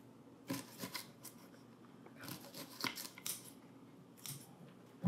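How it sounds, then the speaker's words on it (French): Scissors snip fresh parsley sprigs in a kitchen cooking show, giving several crisp, close cuts in irregular bursts over quiet background. "tu vas pouvoir couper du persil, toi, avec la paire de ciseaux"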